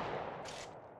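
Gunfire in the mobile version of Apex Legends, a dense, sustained rattle of shots with a brief bright crack partway through, moderately loud and steady over one second.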